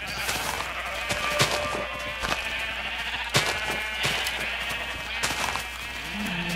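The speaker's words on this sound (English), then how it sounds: "And all my different colored sheep." Sheep bleat softly in the background amid a busy, layered Minecraft soundscape with occasional clicks and thumps.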